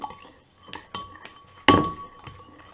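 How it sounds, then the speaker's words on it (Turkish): Spoon clinking and scraping in a bowl while stirring glue and water for homemade slime, a few sharp isolated taps with one louder clink, fairly quiet and close. "Tutkalla suyu iyice karıştırdık."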